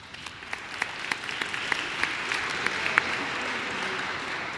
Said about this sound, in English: You all clap it up for Golf High School.